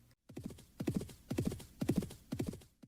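An English Thoroughbred horse clops its hooves in steady, rhythmic bursts, with whinnying neighs mixed in. The sounds are close and fairly loud, with no talk.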